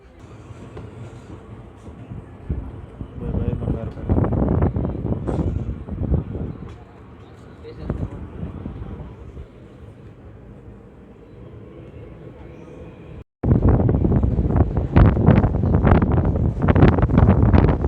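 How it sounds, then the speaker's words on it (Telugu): An Intercity Express train pulls out of Bangarapet station with a loud rumble of wheels and wind noise, and the sound of the moving carriages grows heavier toward the end while voices talk over it. "స్టేషన్ నుంచి బండి బయలుదేరింది"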